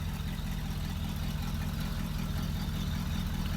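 A 1974 Pontiac Grand Prix with a 6.6-liter 400 four-barrel V8 and true dual exhaust idles steadily, a low, even rumble close by with no talk.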